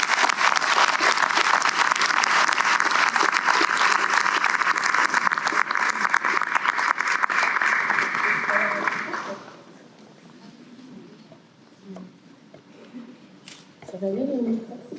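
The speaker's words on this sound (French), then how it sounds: "je vous invite à l'applaudir" An audience gives sustained, even applause for accordion player Nikita, lasting about nine seconds before fading into quiet room noise and a few soft voices.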